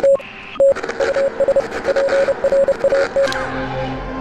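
Radio signal with Morse code in the Oxenfree video game, a loud steady tone beeping in short and long pulses over crackling static, then fading into a low hum, with no voices.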